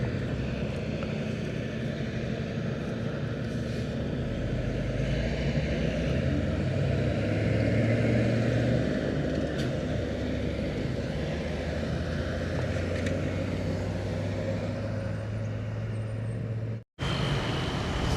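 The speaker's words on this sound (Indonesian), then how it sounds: "Dari tadi beberapa unit mobil pribadi yang udah melintas di gerbang tol Sebapo ini" Private cars passing through the Sebapo toll gate in Jambi during Lebaran homecoming traffic, a continuous low roar of engines and tyres rising and falling as vehicles roll by, heard from roadside without talk.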